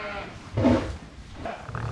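A black sheep gives a single short, close bleat during lambing season, followed by quieter shuffling and a faint second call.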